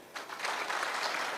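An audience applauds a county commissioner at a public gathering of government administration officers in Kenya: a dense, steady wash of clapping that rises after a brief quieter start and holds at a close, even level.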